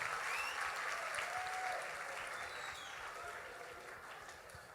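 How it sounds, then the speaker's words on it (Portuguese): An audience gives a warm round of applause for a group from Paraguay, a steady, fairly distant roar of many hands clapping that gradually tapers off. "uma salva de palmas para a galera do Paraguai"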